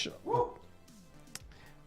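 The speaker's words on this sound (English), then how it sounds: "he's probably barking at dogs walking by" A small dog barks a few times from a balcony overlooking passersby, a sharp burst near the start followed by fainter yips, with someone talking indoors under and around it.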